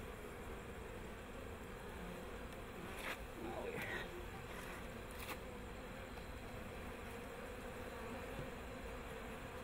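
Honey bees buzz around an opened hive, a faint steady hum under constant background noise, with a few brief louder buzzes as individual bees pass close.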